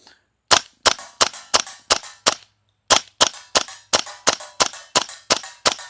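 A Classic Army URGI MK16 gas blowback airsoft rifle fires two rapid strings of sharp, snappy shots, six and then about ten, each with a crisp crack and bolt clack, loud and close, with no talking.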